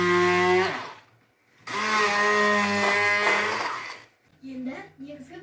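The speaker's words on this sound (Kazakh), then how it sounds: "2-3 алмаға 2 ас қасық қант салып, блендермен езбе дайындаймыз" A blender whirs through two loud bursts, briefly dropping out between them, as it purees two or three apples with two spoonfuls of sugar; a softer, patchier stretch follows at the end.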